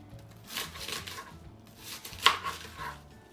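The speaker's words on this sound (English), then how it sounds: "I'm gonna show you how to cut up the whole cabbage" A knife cuts through a whole cabbage on a board, giving a few soft, crunchy slicing strokes and one sharper thunk, close by and fairly quiet.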